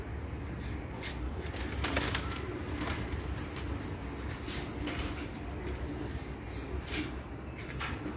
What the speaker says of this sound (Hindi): ये मेरे रेड बुल कबूतर हैं